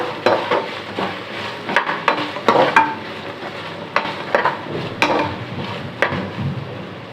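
Carrots sautéing in ghee in a pan for navratan pulao, with a moderate sizzle broken by repeated close spatula taps and scrapes at an irregular pace.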